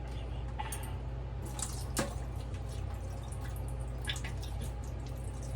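Jarred red peppers are drained in a kitchen sink, with scattered liquid drips and splashes over a steady low hum, close and fairly soft, with no talking.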